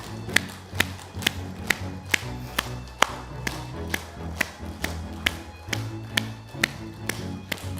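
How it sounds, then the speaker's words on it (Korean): A church gathering claps palms together in a slow, regular beat, sharp unison claps about twice per second over a low hum of the hall and music, with the rhythm continuing throughout. "손바닥끼리 박수 쳐주세요."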